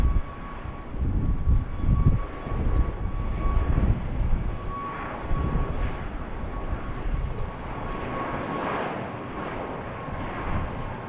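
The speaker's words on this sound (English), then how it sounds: "here's Southwest taking off." A Southwest jet airliner takes off at BWI airport with a loud, sustained engine roar and rumble. A steady high whine runs through it as the sound swells and slowly recedes.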